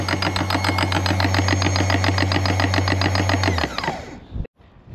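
A new electric anchor windlass on a boat spins fast with a loud, steady motor whine and rhythmic rattling, then winds down and stops near the end.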